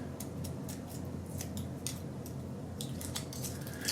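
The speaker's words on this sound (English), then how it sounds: "Remove the aluminum foil." Crinkly crackling and rustling of aluminum foil being peeled away from a shaving kit, close up, a steady run of crisp tearing and crumpling bursts with no talking.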